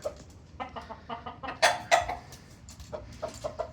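A five-month-old fighting rooster bullstag, a McLean cross with blue, clucks in a run of short, close calls with a couple of louder squawks in the middle, heard alone at moderate volume.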